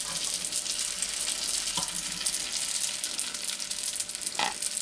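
Almond cigar pastries fry in hot oil with a steady, dense sizzle that holds throughout, broken by a few faint clinks near the end.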